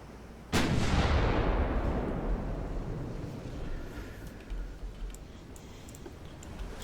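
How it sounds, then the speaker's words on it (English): A naval gun salvo fires in Ultimate Admiral Dreadnoughts, a civil-war-style battle with the CSS Virginia: one sudden loud boom that rolls out into a long, slowly fading rumble, with faint clicks and thuds further off and no talk. "The bigger gun missed, the smaller gun did not"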